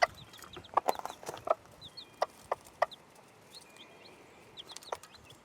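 Chickens clucking with baby chicks near an incubator, soft scattered clucks and repeated high thin cheeps from the chicks, fairly close and quiet with no talk.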